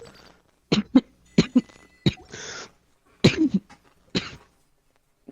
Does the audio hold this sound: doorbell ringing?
no